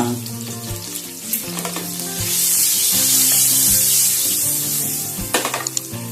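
Green chillies and turmeric crackle in hot oil in a pan, a close sizzle that swells into a loud steady hiss mid-way before settling, with a few sharp pops near the end and a faint tonal background throughout.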